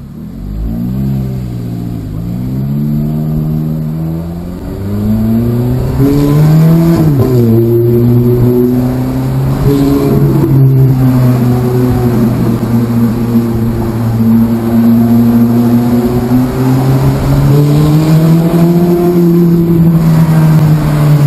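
Ferrari F430 Spider with its original exhaust, heard from inside during a road trip: a loud, close engine drone rises and falls with revs, then settles into a sustained high-pitched cruising roar.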